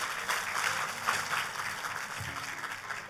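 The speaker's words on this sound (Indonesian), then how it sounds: "kalau mau tepuk tangan yang paling meriah" Congregation in a church service breaking into warm, sustained applause, a steady wash of many hands clapping at moderate distance throughout.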